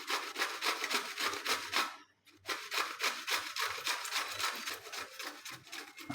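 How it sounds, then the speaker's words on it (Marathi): Bottle gourd rubbed steadily against a fine kitchen grater, a rapid rhythmic rasping of stroke after stroke with a brief pause in the middle, close and moderately loud with no talking. "दुधी भोपळा घेतला बारीक किसणीमध्ये किसायचा आहे."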